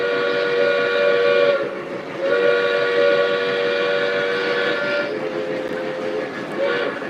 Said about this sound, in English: That's the whistle for the M1B right there.